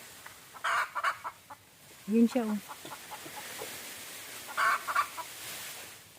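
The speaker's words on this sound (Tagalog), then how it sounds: "Yung manok guys, nandun sa puno ng saging." A chicken perched in a banana tree on a farm gives two bursts of sharp clucking a few seconds apart, and a person speaks briefly between them.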